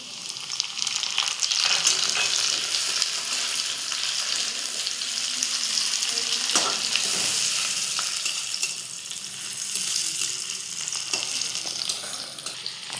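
Chopped tomato fries in a pan of browned ingredients for a Bengali pabda fish curry, giving a bright, constant sizzle with occasional clinks and stirring scrapes, close and continuous without speech.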